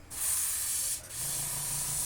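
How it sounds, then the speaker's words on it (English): An airbrush sprays craft paint in two close, steady hissing bursts, separated by a brief pause. "Make sure it's starting to spray out."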